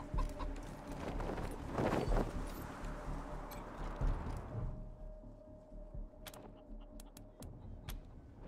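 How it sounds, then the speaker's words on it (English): A chicken clucks in the video game Wasteland 3, short fowl calls over a busy, murmuring game background that thins out after a few seconds, leaving sparse clicks. "let's get us a chicken"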